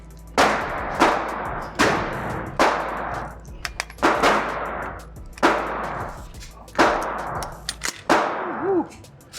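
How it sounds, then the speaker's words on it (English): A 9mm CMMG pistol caliber carbine fires seven sharp, loud shots in a steady, fairly quick rhythm, each crack followed by a short ringing decay, close to the listener with no talk between. "No malfunctions, even when shooting quickly, spiritedly."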